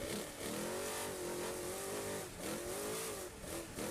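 A trophy truck accelerates hard during a Baja 500 qualifier, its engine note climbing and then dipping with gear changes. The roar is loud, steady and close throughout.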